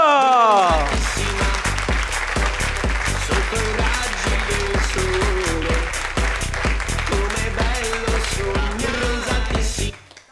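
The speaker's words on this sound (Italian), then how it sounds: "Signore e signori, fate un grosso applauso per la nostra Cristi Peruso!" A cabaret audience bursts into sustained, loud applause with rapid dense clapping right after a voice introduces a performer, holding steady for about nine seconds before stopping abruptly.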